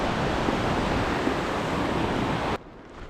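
River water rushes steadily at a river crossing in Switzerland, a loud, broad, unbroken roar close by that drops abruptly to a quieter hiss near the end.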